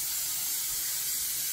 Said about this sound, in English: Okay, I'm going to coat it good with nonstick spray.